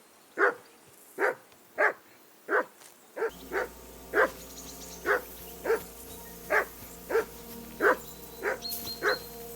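A dog barking in Kingdom Come: Deliverance 2, about a dozen evenly spaced barks close by, first on their own and then over a low game ambience with no talk.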